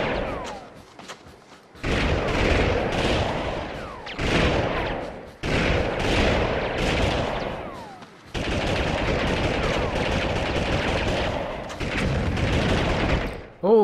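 Grenades are fired in the Army Men 3D game, and loud booming blasts and gunfire roll in four long bursts separated by brief gaps, dense and close for most of the stretch.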